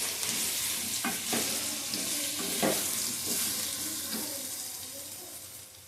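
Gathi kochu (taro) sizzles steadily in hot oil while being stirred, with scraping strokes of the spoon against the pan cutting through the continuous fry at close range, no voices present.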